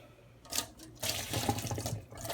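Liquid pours out of a cooking pot into a sink in uneven splashy bursts, a short gush followed by a longer, louder steady stream, close by.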